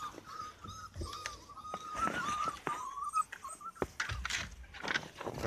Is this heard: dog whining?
yes